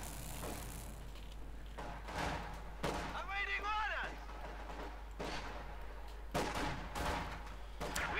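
Grenades and gunfire in Company of Heroes 2, a World War II strategy game, with scattered bursts of shots and blasts alongside a warbling whistle-like effect, heard under game voices and ongoing talk.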